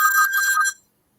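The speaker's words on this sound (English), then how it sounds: "whose phone is going?" A telephone rings with a bright electronic trill, heard once briefly and loudly up close before cutting off into silence.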